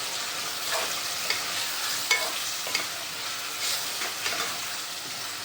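Boiled pamira vegetable being stirred into masala in a pan, a continuous sizzle with periodic scraping strokes of the spoon, close and steady with no speech.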